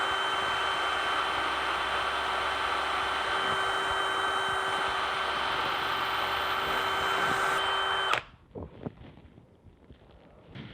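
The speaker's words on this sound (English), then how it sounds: "So now it's just a matter of attaching my drill bit press and having at it." A drill press drilling a wooden pen blank hums steadily and loudly with a high whine for about eight seconds, then winds down abruptly into quiet clicks and handling noises.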